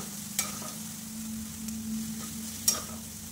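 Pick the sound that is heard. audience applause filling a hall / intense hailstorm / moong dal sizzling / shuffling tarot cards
moong dal sizzling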